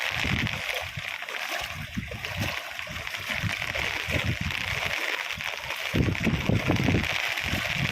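Swollen river floodwater rushing across fields and a road in Devbhumi Dwarka, Kalyanpur taluka, a steady broad splashing roar of moving water close by, with occasional louder surges.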